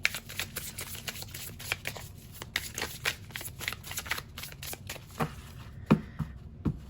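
A Spirit Animal tarot deck is shuffled by hand in a quiet room, giving a run of soft, close riffling flicks and taps over about seven seconds with no talk.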